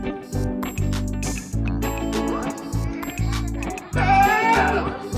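Several goats at a farm give close, loud bleats in quick succession, with low rumbling between calls and a rising quavering cry near the end.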